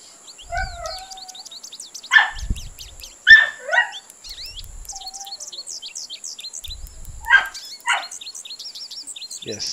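Loud, close bursts of dog barking, a few in quick succession, cut through a steady chorus of chirping birds and insects from a Congo River fishing game.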